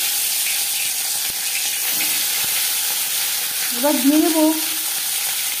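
Hot mustard oil sizzles with a steady, bright frying hiss throughout, with a brief clatter and a louder bubbling surge near the end as marinated fish goes into the pan, while a voice speaks briefly over it.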